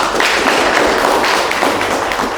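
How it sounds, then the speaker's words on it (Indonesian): A room full of people at an Indonesian lecture gives a steady round of applause, loud and close, with dense clapping that holds evenly for a couple of seconds. "kasih aplaus"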